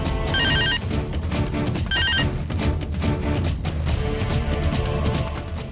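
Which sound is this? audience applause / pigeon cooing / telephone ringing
telephone ringing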